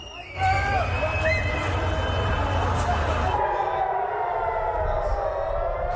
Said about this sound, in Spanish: Las sirenas sonaron desde temprano y las personas se refugiaron en búnkers subterráneos.